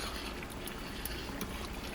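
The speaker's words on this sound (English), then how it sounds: "Here we got the beef tallow boiling away." Beef tallow boils in water in a pot, making a faint, continuous rushing bubble and crackle with small pops scattered through it.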